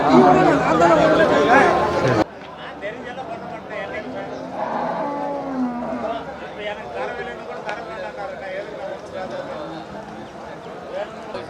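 Cattle at a busy weekly livestock market in Namakkal, lowing and shuffling amid a crowd of voices; a loud burst of chatter opens, then steady mooing and background murmur continue throughout.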